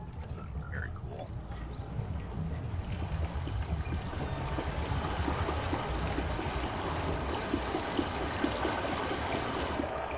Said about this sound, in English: Because you can hear water flowing now